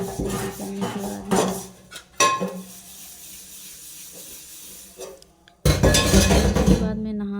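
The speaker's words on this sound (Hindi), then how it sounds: "मैं सुबह सुबह शहरी के टाइम बर्तन धुलने लगी" Dishes washed in a kitchen sink before dawn: clattering pots, clinking cutlery and running water hiss in loud bursts separated by a quieter gap, close to the microphone.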